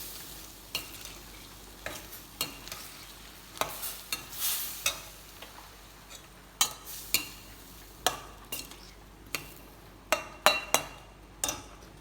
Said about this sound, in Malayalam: ഇനി റംബുട്ടാനെ ചേർത്തു റംബുട്ടാനെ തിളക്കണം